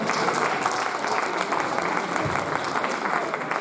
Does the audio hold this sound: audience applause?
yes